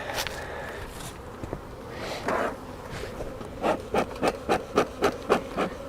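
A hive tool scrapes drone comb off a beehive brood box, starting with irregular rubs and scuffs and then settling into a quick run of even, rhythmic rasping strokes up close.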